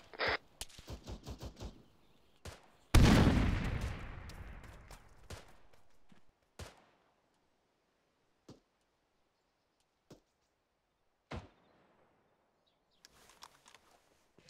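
Frag grenade in the military shooter Arma: a heavy, loud blast after scattered sharp shots, then a long decaying rumble and a few distant isolated gunshots spaced through quiet.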